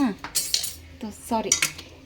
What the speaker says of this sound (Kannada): ಇವಾಗ ನಾನು ಇದನ್ನು ಸ್ವಲ್ಪ ಮಿಕ್ಸ್ ಮಾಡ್ಕೋತೀನಿ